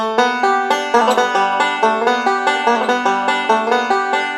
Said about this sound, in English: you're kind of setting up for doing some pull-offs later on where you would do a sound like this.